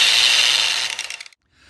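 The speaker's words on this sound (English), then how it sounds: "it's just a battery powered angle grinder. And I have a flapper wheel, 120 grit" Battery-powered angle grinder fitted with a 120-grit flap wheel, a loud bright whine that carries for most of the burst, then stutters through a few quick pulses as it spins down and cuts off, leaving a faint tail.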